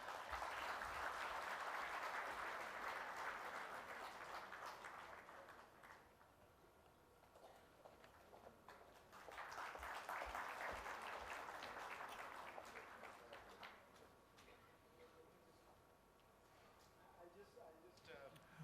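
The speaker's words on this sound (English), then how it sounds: "Can we have a round of applause?" A summit audience applauds in two swells of clapping, separated by a quieter stretch, with faint voices in the background.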